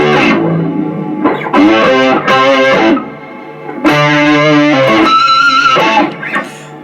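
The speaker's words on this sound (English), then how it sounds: "going octave down with the octave pedal, and then we're kind of going octave up as well with the reverb" Electric guitar notes and chords run through octave and reverb pedals, drenched in octave-shifted tones and a wash of reverb, played in bursts with short pauses, thick and shimmering, no voices.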